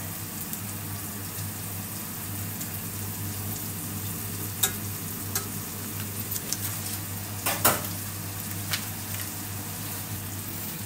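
Butter sizzles steadily around salmon cooking in a pan, a close, even frying hiss with a low hum underneath and a few sharp utensil clicks and taps scattered through the middle.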